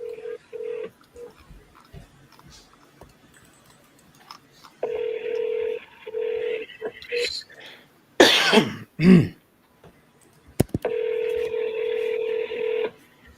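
Steady telephone dial tone and tones from keypad presses sound in bursts between pauses, with a throat clearing and coughs in the middle of the sequence.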